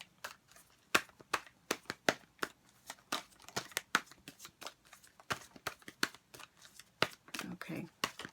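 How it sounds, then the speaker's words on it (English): Tarot cards are shuffled by hand in a quiet room, making a rapid series of crisp riffling snaps and soft slaps at an irregular pace, close to the microphone, with a voice faintly present underneath. "So let's just shuffle through the cards."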